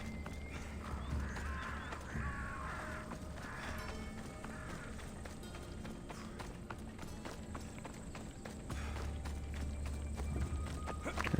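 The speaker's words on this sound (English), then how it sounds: "There's my horse." A horse's hooves clip-clop in the video game Assassin's Creed Odyssey, a running rhythm of hoofbeats with a brief whinny, heard beneath game music and ambient sound.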